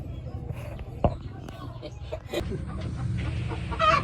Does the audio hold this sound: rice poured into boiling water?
no